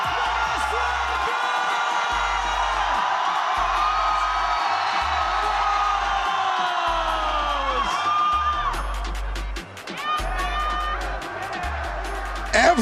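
Loud stadium crowd at the VALORANT Masters Santiago esports event cheering, whooping and yelling continuously, with rhythmic chanting bursts and scattered claps toward the end.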